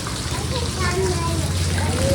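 Heavy rainwater rushes past a village house, a constant wash of flowing water, with children's voices and other talk mixed in over it.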